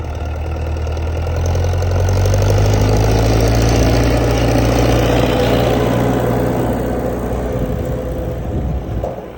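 A tractor engine labours steadily while pulling an anchor seeder sowing wheat in muddy ground, a loud, close, continuous low rumble with a knocking diesel pulse that swells slightly under load and holds throughout.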